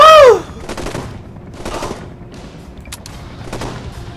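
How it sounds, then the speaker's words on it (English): An AK assault rifle fires in the zombie video game Zombi, a loud burst right at the start followed by several quieter, sharp intermittent shots or impacts spread across the next few seconds. "Ooh, it's assault rifle ammo. Let's try out the AK."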